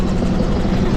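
A helicopter flying close overhead, a loud, steady, close rotor and engine roar that fills the whole second without a break.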